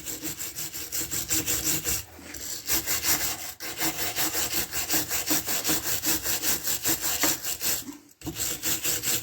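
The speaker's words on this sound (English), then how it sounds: "we're going to clean this with a little bit of wire brush" Rapid back-and-forth scraping of a wire brush scrubbing brake caliper bracket hardware, close and rhythmic with brief pauses between strokes, no talking.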